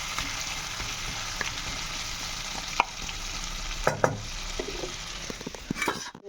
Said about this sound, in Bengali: কিন্তু লো ফ্লেমে রেখেই আমি নাড়ছি।